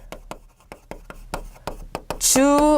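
A pen or chalk strikes a board in short, sharp taps and strokes during a Korean-language English grammar lecture. A voice briefly rises at the very end.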